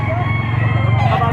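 Gamefowl rooster of Kelso over Golden Boy bloodline crowing at a Padre Garcia, Batangas market, a brief crow amid steady crowd chatter and low background hum.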